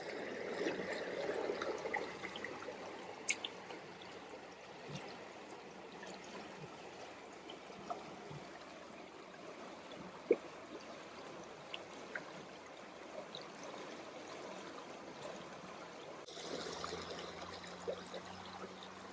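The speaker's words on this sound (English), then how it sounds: "People are just enjoying the creek." Creek water in Alaska flows steadily in a backyard setting, a continuous moderate rushing and trickling wash with a few brief clicks, alone with no talk.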